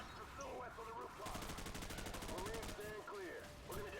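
Rapid automatic gunfire in Call of Duty 4: Modern Warfare, dense close bursts of shots rattling continuously over a few seconds, mixed with game sound effects.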